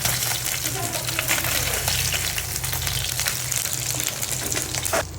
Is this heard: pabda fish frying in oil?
yes